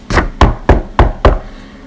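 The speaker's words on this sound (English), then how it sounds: "The wolf knocked at the door." Knocking at a door in a dramatized fairy tale, five firm, evenly spaced raps heard close and alone with no talk.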